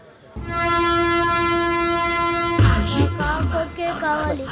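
A train horn blares in a long, steady blast, then gives way to the rattling rumble of a moving train with clanking and shifting noises, as in a film scene.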